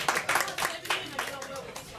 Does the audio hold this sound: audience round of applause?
yes